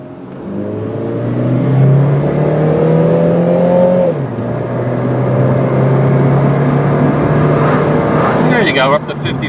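A silver 2002 Chevrolet Cavalier sedan pulls away and accelerates, its engine hum climbing steadily in pitch, dropping briefly at a gear change, then rising again as the car settles into a smooth cruise.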